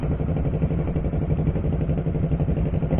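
Motorcycle engines idle nearby in a steady, muffled, low throbbing chug as a group of six riders packs up outside a cafe, with no voices heard.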